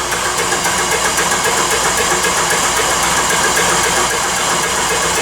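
A honey extractor spins frames of honeycomb during a harvest, giving a loud, steady mechanical whir and hum with a faint rattling pulse, close by and uninterrupted.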